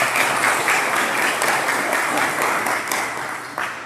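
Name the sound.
round of applause from audience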